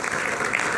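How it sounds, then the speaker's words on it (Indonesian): A brief burst of dense crowd applause in a studio audience, loud and continuous for under a second. "Kita berikan tepuk tangan dulu."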